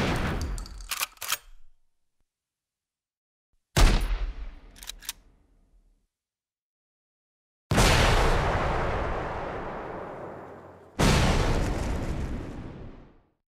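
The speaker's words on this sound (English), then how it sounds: "The weapon sounds were created by adding multiple layers of samples that accounted for the initial attack, body, and low-end elements of the sound" Layered first-person-shooter weapon fire, shotgun through rocket launcher: four loud separate blasts, the first two sharp with quick rattling tails, the last two huge booming explosions with long decaying rumbles, divided by silent gaps.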